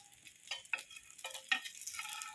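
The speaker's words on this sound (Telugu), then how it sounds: "బటర్లో ఫ్రై చేస్తాం" Pav buns frying in butter for Mumbai-style pav bhaji street food, a faint, quiet sizzle broken by a few brief scraping and stirring bursts, with no talking.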